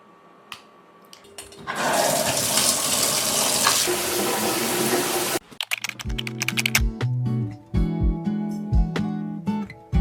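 Shower water runs in a bathroom as a steady, dense hiss of spray for several seconds, then gives way to clattering clicks and bright tonal knocks close by.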